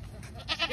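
A goat bought for Qurbani bleats in a brief, close call of a few quick pulses.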